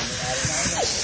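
Cooling spray hisses in a steady airy rush for about a second, fairly loud and close, with a few faint voiced sounds beneath.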